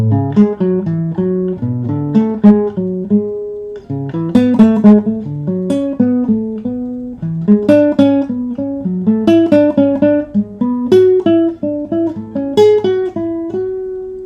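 Clean guitar notes picked in a steady stepwise pattern, repeating the same melodic figure at shifting pitches, played alone with no talking.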